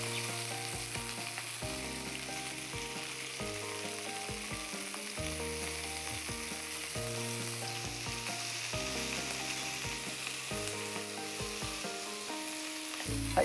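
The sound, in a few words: cabbage stir-frying in oil in a frying pan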